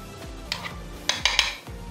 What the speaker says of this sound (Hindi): अच्छी तरह से पहले इनको मिक्स कर लेंगे